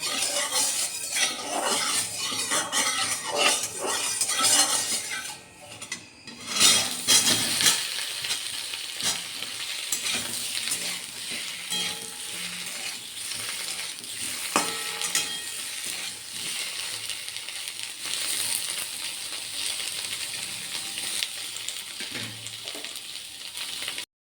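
Paneer cubes stirred and lightly fried in ghee in a pan, with a steady sizzle under repeated scraping and clinking of a metal spoon against the pan throughout, no voices.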